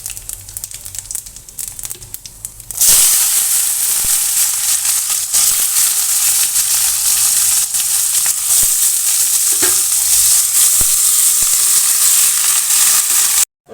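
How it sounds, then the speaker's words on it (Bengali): Bay leaf, dry chilli and black cumin hit hot oil with a sudden loud burst of sizzling that stays strong, close and crackling for the rest of the stretch, after a quieter start. "তেজপাতা আর শুকনো লঙ্কা ফোড়ন দিয়েছি, আর কালো জিরে দিলাম"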